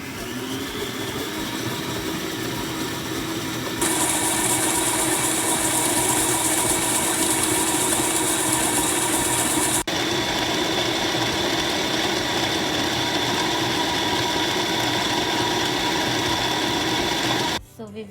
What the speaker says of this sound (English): Now let's start beating on medium speed.